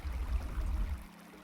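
Water flows in the block-building game Creativerse, a low rushing gush that runs steadily for about a second and then quickly fades to a quiet hum.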